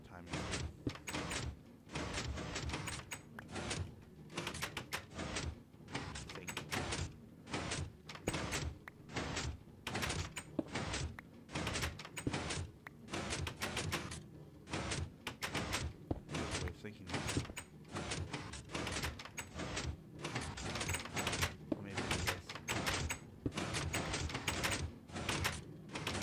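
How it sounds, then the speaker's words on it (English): A Minecraft redstone build keeps opening and closing a door, giving rapid, regular clacks that repeat throughout, loud and close. "That door sound might be a little annoying."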